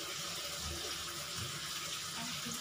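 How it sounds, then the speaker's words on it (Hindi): Black soy sauce pouring into a tablespoon for chilli paneer, a continuous close hissing liquid stream filling the short moment with no talk. "यहाँ पर हम दो टेस्पून यहाँ पर हम सोया सॉस डालेंगे"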